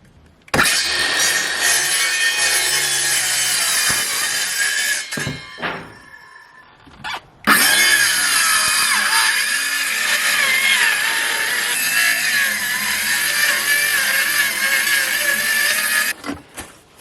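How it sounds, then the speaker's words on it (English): Worn-out power saw cutting cutouts in a roof, loud whining cuts in two long bursts with a brief pause and clunk between them, close and dominant. "before I start cutting them with the saw"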